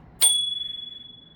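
A single bright ding from the small handlebar bell on a Segway Ninebot F40 kick scooter, struck once close up and ringing out with a long, slowly fading shimmer.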